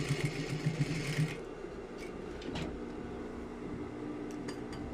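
A sewing machine backstitches a seam in fabric for a pleated blouse, giving a short fast mechanical whir that stops after about a second, followed by quiet handling and faint clicks, close and without talk.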